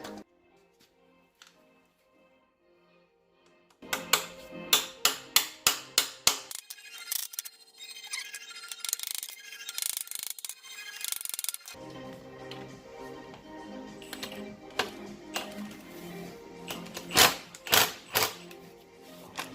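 A reverse bolt extractor tool works on a stubborn exhaust manifold bolt in a GM engine, giving rapid bursts of sharp metallic clicks and ratcheting taps at close range, with quieter gaps between bursts.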